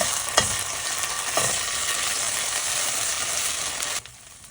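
Minced garlic sizzling and frying in oil in a pan, a steady close crackle with a couple of stirring scrapes, then cut off near the end.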